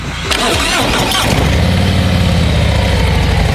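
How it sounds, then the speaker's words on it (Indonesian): An RG model-year motorcycle engine fires up with a single press of the electric starter, a short cranking burst quickly catching into a loud, steady idle close by. "Ini baru motor kok starter dipencet lama habis itu lepas, pencet aja sekali."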